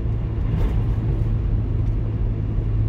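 A snowmobile being driven through snow, a steady close engine rumble with low droning hum that holds constant throughout, no voices.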